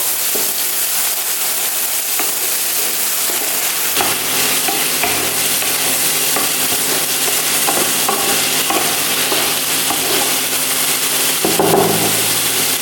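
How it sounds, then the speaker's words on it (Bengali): Onion, ginger, green chili and garlic paste frying for a whole roast chicken, stirred steadily with a utensil scraping the pan over a loud, constant sizzle, with no voices. "পেঁয়াজ, আদা, কাঁচা লঙ্কা আর রসুনের পেস্ট দিয়ে ভালো করে নাড়াবো"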